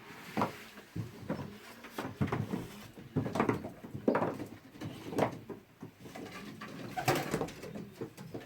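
Soft, repeated cooing from pigeons close by on an allotment, a series of low throaty calls spaced irregularly, with faint shuffling in between.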